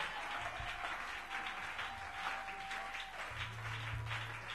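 A church congregation applauds steadily during a French-language worship service, a dense, even wash of many hands clapping without pause, with a faint steady hum underneath.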